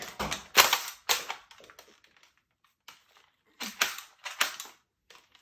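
A Nerf Rival Finisher blaster fires test rounds, giving sharp clacking snaps in two quick bursts separated by a short pause, close and fairly loud.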